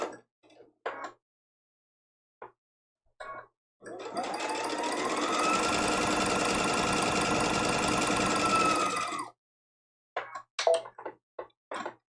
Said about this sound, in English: I just sew off the edge and turn and just do that all the way around